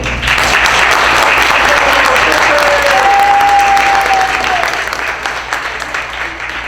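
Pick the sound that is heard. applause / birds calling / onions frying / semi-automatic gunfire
applause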